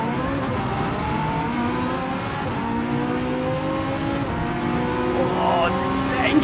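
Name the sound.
race car engine revving in Gran Turismo 7 video game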